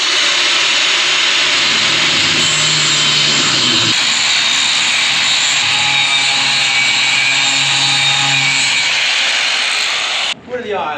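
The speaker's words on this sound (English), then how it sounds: "we're gonna grind it a little bit, then try it, and we'll keep doing that until it fits" A grinder works a small metal piece in a barn workshop, a steady loud broadband whine holding for about ten seconds before cutting off abruptly near the end.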